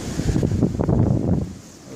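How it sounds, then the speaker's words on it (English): Strong wind gusting outdoors in the aftermath of a storm, a continuous loud roaring buffet with surging rises and falls, as if battering the microphone, easing slightly near the end. "the wind is still here"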